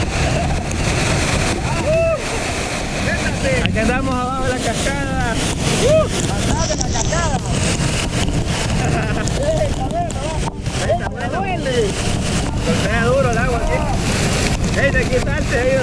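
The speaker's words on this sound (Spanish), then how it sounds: "Aquí andamos abajo de la cascada." A constant loud roar of rushing water from a waterfall fills the scene, heard from below it, with people talking and calling over it nearby.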